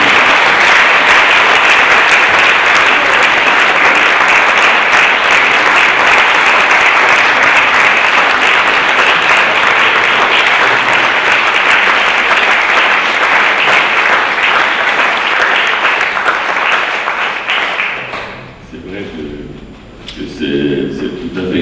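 Loud, sustained applause fills the hall at the Prix CatalPa 2016 award ceremony, steady for a long stretch before thinning out as a voice begins speaking.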